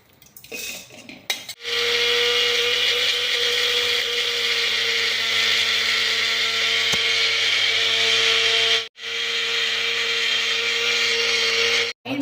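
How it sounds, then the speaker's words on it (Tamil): A mixer grinder jar grinding roasted ingredients into powder for homemade baby cereal, with a loud, steady motor whine running nearly continuously and one brief stop in the middle. "ஒரு மிக்சர் ஜாரில் போட்டு அரைச்சிடலாம்"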